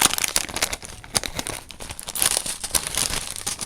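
Close, continuous crinkling and tearing of a plastic surprise packet containing a squishy as it's pulled open, with rapid irregular crackles throughout.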